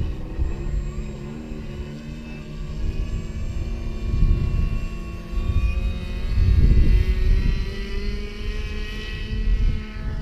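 A light aircraft taking off at Blackhill Airfield, its engine a continuous rumbling drone with a steady high whine above, swelling louder and nearer in the middle and holding strong toward the end, with no talk over it.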